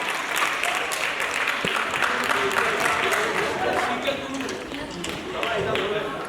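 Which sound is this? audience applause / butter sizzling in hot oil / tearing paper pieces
audience applause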